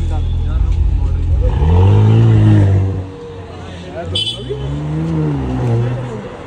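A sports car roars past close by, its engine revving up loudly then fading, followed by a second rising engine sweep, with crowd murmur and a voice in the background.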